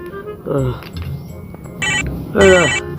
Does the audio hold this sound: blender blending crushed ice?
no